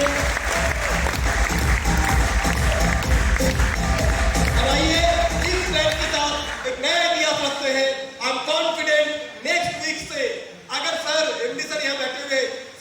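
A crowd at a SmartValue repurchase plan training event in Hubali gives loud applause for its leadership, then the clapping thins as music and a voice take over.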